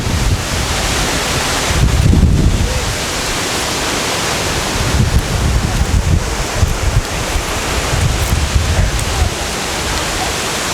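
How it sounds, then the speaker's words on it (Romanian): Strong, gusting wind roars and buffets across the whole clip in rural Kursk, Russia, with heavier surges around two seconds and again from five to nine seconds, and no voices. "Un vântoaică, un uragan s-a ridicat."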